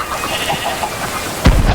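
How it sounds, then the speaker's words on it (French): Thunder from a storm in a video game: a sudden loud, deep crack and rumble bursts in near the end after a stretch of quieter ambient game sound. "bah j'ai de l'orage"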